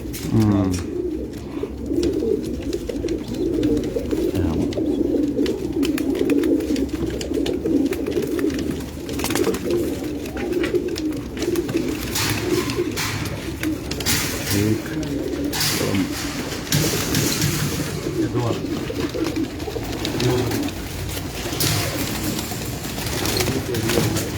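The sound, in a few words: pigeons cooing on a rooftop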